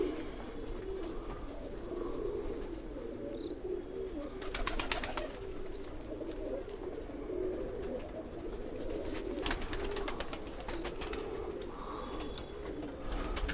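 Pigeons coo softly in low, throaty, repeating murmurs against a steady backdrop of bird noise, with brief fluttering or rustling bursts now and then, faint and close.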